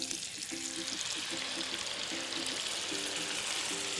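Orange-and-vodka chicken marinade, with chicken cut into thin strips, sizzles steadily in a hot pan. The frying hiss is continuous and fairly close, with faint, regular tonal beeps or music sounding underneath.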